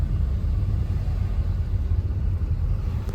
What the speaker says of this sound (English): Whoa, that truck is close.